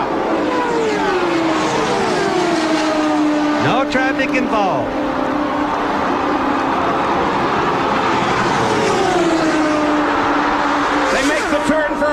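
Indy race cars howl past at speed on the final lap, their high engine notes sweeping up and down in Doppler passes, loud and continuous beneath a commentator's excited talk.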